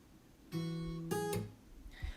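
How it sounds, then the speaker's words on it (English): Plucked acoustic guitar notes on the first and fourth strings ring out, a sustained chord followed by a second brighter pluck and a sharp percussive hit, close and clear with no talking. "we're going to be plucking 1st and 4th string,"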